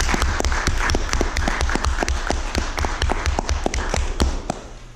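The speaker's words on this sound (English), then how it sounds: "Can everybody just give her a round of applause real quick?" An audience at a Toastmasters meeting claps for the day's Toastmaster, with dense, steady applause and sharp individual claps close by, lasting the whole stretch and tapering slightly at the end.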